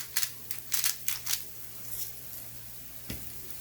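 A spoon scrapes and stirs frying eggplant seasoned with pepper and salt in a pan, several quick scraping strokes at the start, then a soft steady sizzle with one more faint knock near the end.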